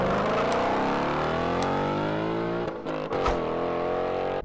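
A Mazda Miata NC1 race car drives on a track, its engine loud and close, rising steadily in pitch as it accelerates, then briefly dropping off with a gear change before pulling again.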